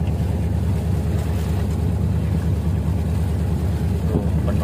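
A motor jukung boat on the Musi River in Palembang chugs steadily as it passes under the Musi 4 bridge, its low engine throb loud and continuous with a faint wind rush over it.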